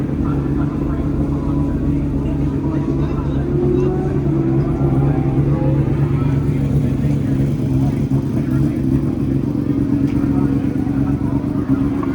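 Racing motorcycles at a Bemsee club race scream into the first corner, a loud, steady engine drone with shifting tones throughout, close to the rider's own bike.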